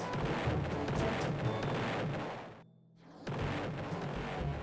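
Units in Roblox Toilet Tower Defense fire in dense, rapid volleys of game gunfire with crashing impacts, loud and constant, broken by one brief near-silent gap before the barrage resumes.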